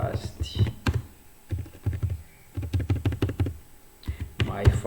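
Keys clattering on a computer keyboard in short bursts of quick taps separated by pauses, close and fairly crisp, with a voice talking at moments.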